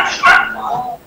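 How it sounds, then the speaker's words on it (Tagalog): A dog gives a short loud bark followed by a fading whine, close to the microphone, lasting about a second. "Maingay din po yung aso."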